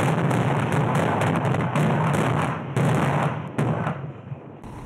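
A rock-blasting explosion in a railway tunnel cut through rock in the Eastern Sayan mountains, heard as a sustained loud rumbling roar with dense crackling bursts that gradually settles, with no voices.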